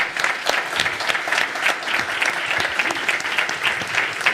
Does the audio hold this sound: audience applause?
yes